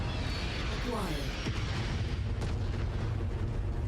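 Airstrike explosions in the MechWarrior video game rumble as a continuous heavy roar with several deep booming bursts layered over one another, loud and sustained from start to end.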